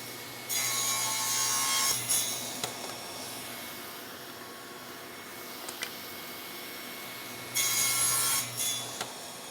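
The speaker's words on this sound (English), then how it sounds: "Now I'm going to come back and make the second cut on all of our parts" A saw cuts wood parts guided by an INCRA miter gauge, with two loud sustained cutting passes separated by quieter tool noise and scattered clatter.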